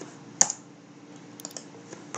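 A block name being typed on a computer keyboard: a handful of sparse, light key clicks scattered over a quiet background with no talk.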